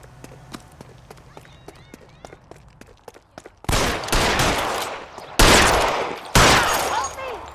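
In the L.A. Noire video game, footsteps run first, then bursts of loud gunfire break out in three heavy volleys over the second half, close and dense, with voices mixed into the scene.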